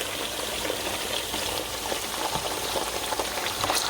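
Potatoes frying in olive oil for Spanish tortilla, a dense, steady sizzle and crackle filling the pan, close and loud, with no voices.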